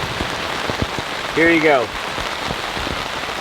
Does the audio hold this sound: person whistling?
no